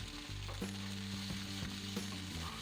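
Chopped ada is tossed and mixed into a wilted mixture in a hot pan, giving a continuous low sizzle with a faint steady hum and repeated light scraping taps from stirring, close and fairly quiet.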